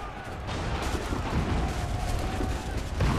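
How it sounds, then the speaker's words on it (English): Cannon fire in Assassin's Creed 3 arrives as a rumbling barrage of heavy booms and crackling blasts, loud and continuous, building slightly toward the end. "Oh, cannon fire now. Take cover!"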